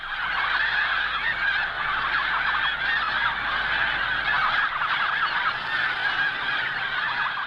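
A flock of snow geese, with mallards among them, honks continuously, many overlapping calls blending into a dense, noisy chorus close by, with no voices present.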